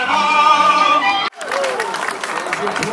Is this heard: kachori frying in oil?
no